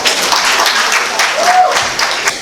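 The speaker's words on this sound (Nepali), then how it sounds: "ल ताली बजाउनेछौँ" Wedding reception guests clap together in a steady, dense burst of applause, with a voice briefly rising above the crowd.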